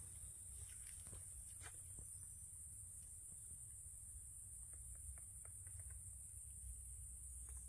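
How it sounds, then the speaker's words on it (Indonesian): Dense, steady chorus of crickets in a mossy mountain forest on Mount Buthak, faint and continuous with a few soft rustles or steps beneath it. "jangkrik yang dominan."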